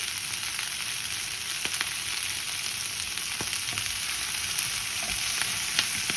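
Steady sizzling of food frying in a pan, a continuous crackling hiss with occasional louder pops, no voices.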